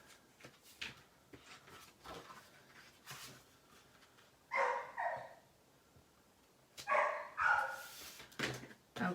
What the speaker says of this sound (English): he just starts barking.